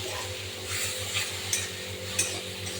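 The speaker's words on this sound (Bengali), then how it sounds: "এবার নেড়ে চেড়ে নেব" Crab brain being stirred in a cooking pan, with steady scraping and stirring against the metal and a few sharper clinks of the utensil, over a low constant hum and faint sizzle.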